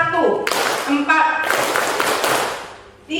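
A group of students claps together in a lecture hall at an education institute, bursts of hand claps in bouts, mixed with someone speaking between them.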